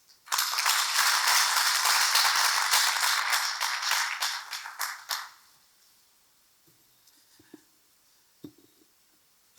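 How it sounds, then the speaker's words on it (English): An audience breaks into loud, sustained applause after a talk about saving and joining a savings group. The clapping lasts about five seconds, then fades, and a few scattered faint taps follow in a quiet room. "let's give him a bigger round of applause"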